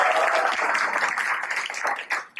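Sustained applause from an audience welcoming a devotional drama team performing a Krishna play at a home gathering, dense clapping throughout that thins out briefly near the end.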